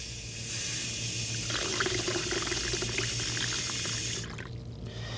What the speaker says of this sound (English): And then I'm going to add hot water to my bowl.